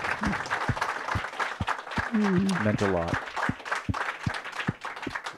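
Audience at an author event applauds, with scattered clapping and crowd murmur under talk, as someone speaks briefly amid the clapping and a voice rises mid-clip.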